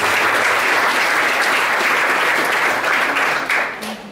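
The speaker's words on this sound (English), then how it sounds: "And so a round of applause for our Olympians." Sustained applause from a forum audience for Olympians at the opening panel of the 2024 FISU World Forum, dense and steady, fading slightly near the end.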